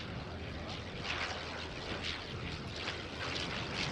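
Vintage Fokker D.VII and Fokker Dr.I fighter planes flying at Sywell in 2024, a broad, steady propeller-engine drone overhead with gently swelling and fading loudness, held at a distance throughout.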